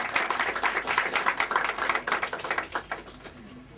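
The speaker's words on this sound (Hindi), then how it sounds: "तालियों से उनका स्वागत करिए।" An audience at a welfare educational society event in Chamba applauds to welcome a guest onto the stage. The clapping is brisk, dense and close, then thins out and fades toward the end.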